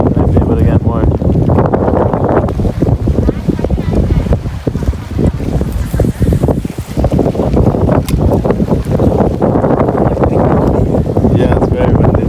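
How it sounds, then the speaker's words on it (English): Strong wind blows outdoors near the water and buffets the microphone with a loud, continuous roar and gusty surges, while voices talk faintly beneath it. "it's very windy"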